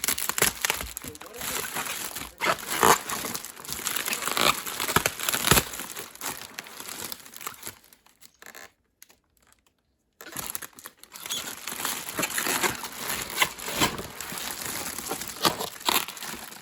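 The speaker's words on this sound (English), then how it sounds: "Wow, they used a lot of tape on this." Packing tape being peeled and torn off a shipping box holding Uniden scanners, loud crinkly ripping and cardboard crackle in bursts with a brief silent gap midway, close and busy.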